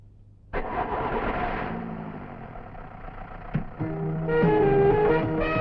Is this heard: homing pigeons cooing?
no